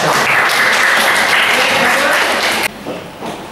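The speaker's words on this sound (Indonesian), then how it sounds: "saya beri tepuk tangan bagi yang" A classroom of children claps loudly and steadily for over two seconds, then the applause cuts off abruptly, leaving faint room noise.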